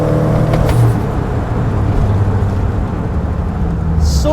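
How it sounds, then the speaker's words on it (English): A four-wheel-drive VW Golf GTI Mk2 with a Subaru drivetrain runs its engine steadily and loudly, with a continuous low drone and hints of revving throughout. "Such a distinctive engine noise."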